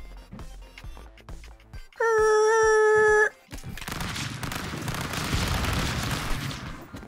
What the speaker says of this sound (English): Thank you for shooting the gun on my hand